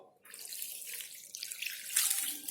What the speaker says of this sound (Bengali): অল্প পরিমাণ জল